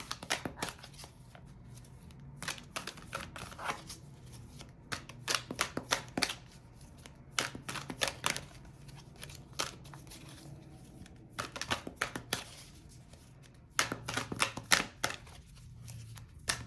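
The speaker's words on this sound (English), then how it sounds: "Let's pull some more cards." Tarot cards being shuffled and pulled, heard as close, crisp riffling and snapping bursts in irregular clusters over a quiet background, with no talking.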